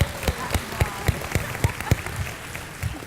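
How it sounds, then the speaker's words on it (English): Applause from a keynote audience for a speaker, heard as a loose patter of claps with sharp louder hand strikes standing out over a steady crowd clatter, fading slightly toward the end. "can we give her a round of applause for being brave?"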